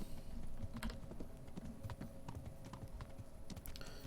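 Horse hooves clip-clopping in the medieval video game Kingdom Come Deliverance, a steady rhythmic run of close hoofbeats lasting throughout with no talk over it.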